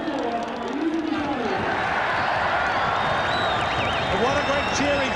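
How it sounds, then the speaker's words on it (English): A stadium crowd cheers and applauds a rugby try at a 1990 New Zealand versus Scotland test match, a broad sustained roar heard at a distance under a commentator's voice. "what a great cheer he got from the crowd in the deep south"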